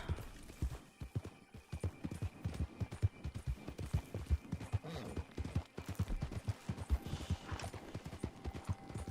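Horse hooves beat in a fast, steady running rhythm in the video game Red Dead Online, close and fairly loud throughout, with no talk over them.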